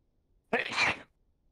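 A single sharp human sneeze bursts out close and loud, lasting about half a second amid otherwise quiet surroundings.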